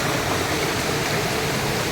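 A flowing stream in Ma On Shan Country Park, Shatin Wai, Hong Kong, makes a steady, close rushing of water that holds even and unbroken throughout, with no voices.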